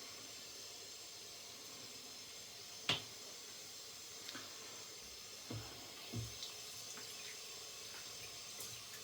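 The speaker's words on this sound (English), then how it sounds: "I'm gonna wet the visage" Steady running water from a tap hisses at the sink while a face is wetted before shaving with organic shaving soap, with a few soft splashes and knocks over the constant flow.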